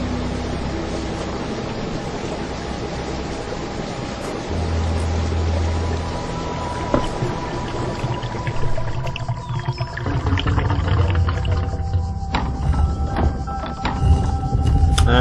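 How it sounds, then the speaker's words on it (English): Water draining away and receding in The Talos Principle, a steady rushing wash with low rumbling swells and scattered clanks, continuous and fairly loud with no talk. "And lo and behold, the water is receding."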